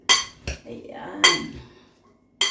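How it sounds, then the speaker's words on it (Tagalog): A Mexican salad of onion, avocado, corn and red beans is tossed in a bowl, with several sharp utensil clinks and scrapes against the dish separated by short pauses, close and clear. "I-mix lang natin siya ng ganyan."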